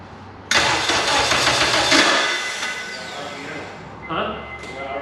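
Starter cranking the K24 engine of an all-wheel-drive Integra with a suspected broken starter: a sudden loud grinding whir that runs about two seconds and fades, followed by a couple of short mechanical bursts.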